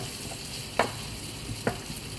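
Onions cooking with tarragon in a frying pan, a steady soft sizzle with two distinct scraping strokes of a spoon stirring them, close up.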